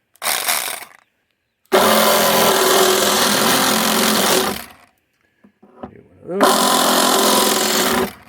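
A Sawzall reciprocating saw cuts a lip into a panel inside a Hummer H3. The saw buzzes loudly and close in three bursts, a short one, a long one of about three seconds and a final one, with brief pauses between them.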